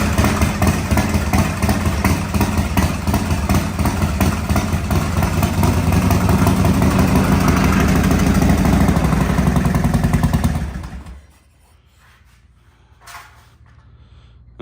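An old Harley-Davidson motorcycle engine idles with a steady, loud, close throb for about ten seconds, then cuts off into near silence with a brief faint noise afterward.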